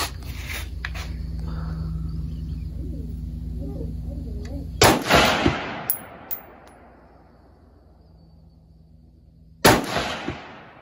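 Two loud, sharp rifle shots from a Mini-14 ring out about five seconds apart on an outdoor range, each cracking close and trailing into a long echoing decay, with a faint voice before the first.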